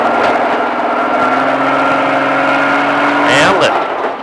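An exotic car's engine drones steadily and loud from inside the cabin on the Speed Vegas Baja track, rising slightly under throttle, while a person talks over it.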